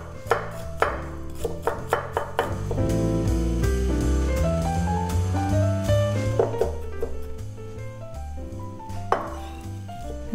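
A knife finely chops a vegetable for bibimbap on a cutting board, with a quick run of sharp taps at the start and a few more near the end, partly masked by louder melodic background music.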